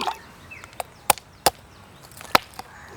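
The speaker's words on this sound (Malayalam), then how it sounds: "ഇനി ഇതിനെ വെട്ടി മുറിച്ച് രണ്ട് കഷ്ണാക്കണം" Tender coconut being hacked in two with a blade, giving several sharp, separate chops with gaps between them, close and loud against a quiet background.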